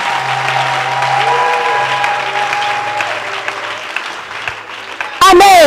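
A church congregation breaks into loud applause at the end, sudden and close, after a stretch of a woman preaching over sustained musical tones.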